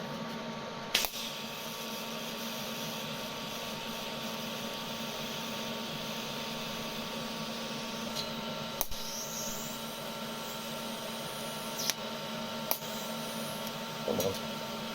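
TIG welding of 316 stainless steel with a 316 filler rod at about 35 amps for a drain grid: a quiet, steady electrical hum and hiss, broken by a few sharp clicks.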